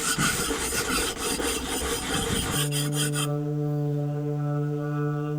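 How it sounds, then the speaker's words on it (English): Hand sanding a wooden mast step before painting, a dense, rhythmic rasping scrape of repeated strokes for a few seconds that gives way to a steady sustained musical tone. "More sanding."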